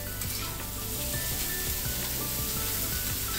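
Loud, steady sizzle of tomatoes frying with browned onion in a hot pan, a dense continuous crackle with faint stirring scrapes and no talk.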